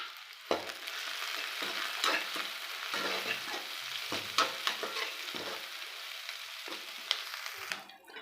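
Onions and curry leaves sautéing in a hot pan for a chicken curry, with a steady crackling sizzle and periodic scraping stirs of a spoon against the pan, close and alone.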